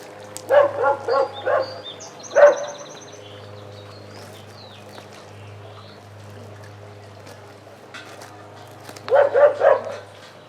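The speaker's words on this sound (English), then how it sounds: "our neighborhood dog across the street, very barky." A neighborhood dog across the street barks from a distance: a quick run of faint barks, one single bark, then another short cluster after a long quiet stretch over steady low outdoor hum.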